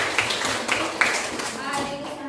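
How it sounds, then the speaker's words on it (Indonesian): Students in a classroom clap their hands together, a soft scattered round of claps under a steady murmur of talk and children's voices. "tepuk tangan untuk negosiasi"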